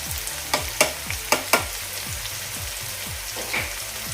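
Turmeric and red chili powder frying in hot oil on a low flame for a spiced bell pepper masala, a steady soft sizzle broken by several sharp clicks and scrapes as a spoon stirs the pan, with no voices.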